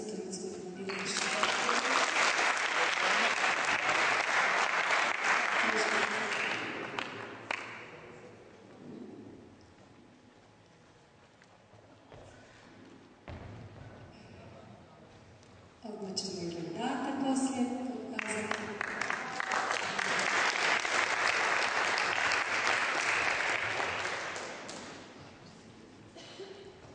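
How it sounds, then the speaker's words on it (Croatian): A group clapping during cheerleading practice, two long loud bursts of dense, rain-like clapping, separated and mixed with stretches of a person talking, in a reverberant hall. "Naravno, možemo i da pljeskati u cheerleadingu."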